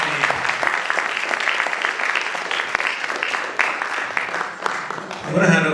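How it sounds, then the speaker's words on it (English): Audience applause after an evening youth event, steady dense clapping from a crowd throughout with some voices mixed in, swelling slightly louder at the end. "Can we get a round of applause for everybody?"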